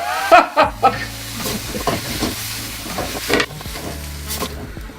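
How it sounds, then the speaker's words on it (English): Fried rice sizzles in a hot pan as it is stirred, with clattering utensil knocks at the start and a steady hissing fry throughout. "Just give it a stir. It is a stir fry after all."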